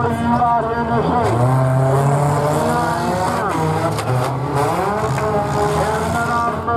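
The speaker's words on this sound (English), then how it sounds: "About 7 or 8 cars running and going out there." Engines of several 4-cylinder cars roar and rev at a county fair demolition derby, with rising and falling tones and tire squeal, while an announcer talks over the din.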